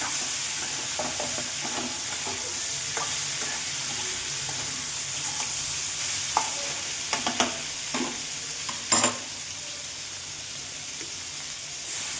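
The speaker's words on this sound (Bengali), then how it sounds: "এদিকে মাছটা ভাজা হোক" Fish fries in a pan with a steady, moderately loud sizzle, punctuated by several sharp clinks and scrapes from a utensil; no one speaks.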